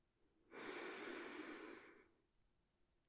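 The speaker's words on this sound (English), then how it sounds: "deep breath in for me" A single deep breath is drawn in during a medical check-up, close and soft, lasting about a second and a half before easing off into quiet.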